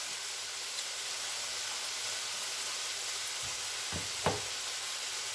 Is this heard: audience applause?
no